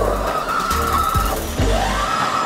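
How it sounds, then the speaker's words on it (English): An electric vehicle accelerates hard, its motor giving a rising whine while tires squeal and screech in short bursts, loud and close, with no talking. "When you hear the whir of the electric motor, your body just sits back in its seat"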